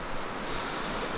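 River water flows through a deep run on a trout stream in the Great Smoky Mountains, a steady close rushing wash with no other sounds.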